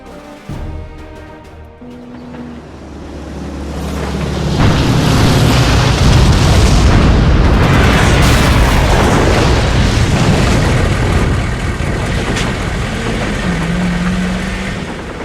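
Big artillery guns firing in the Men of War video game, a heavy rumbling boom swelling after a few seconds into a sustained roaring barrage with engine-like rumble underneath, loud and dense, no talking.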